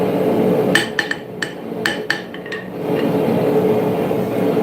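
A hammer strikes steel while a dagger is forged at low heat for fine finishing, a quick series of sharp ringing blows over a steady background roar of the forge.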